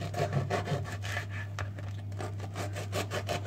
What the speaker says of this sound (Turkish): Aynı tahtada ekmeklerimizi doğrayalım.